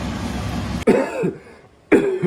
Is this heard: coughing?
yes